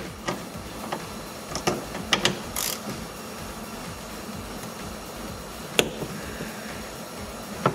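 A ratchet with a Torx 50 socket works a rear seat belt bolt loose in a Dodge Journey, giving a few sparse mechanical clicks and clunks over a quiet background.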